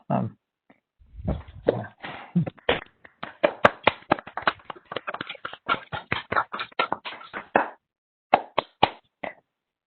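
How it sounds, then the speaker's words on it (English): Scattered clapping from a small online audience with microphones unmuted after a talk on high-energy-density plasma physics, uneven and sparse at first, then a patchy run of claps that thins out with gaps. "I invite everybody to unmute so we can give Andrew a nice applause."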